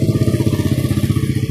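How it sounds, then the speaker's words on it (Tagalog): A motorcycle on a town street in the morning, its engine throbbing in a fast, even rhythm, close and loud throughout the short stretch with no talking. "Marami ng motor dito"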